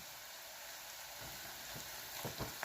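Turmeric, chilli powder, coriander powder and salt sizzling in hot oil in a pan for a green bean and potato curry, a steady soft fry with a few louder scraping stirs near the end.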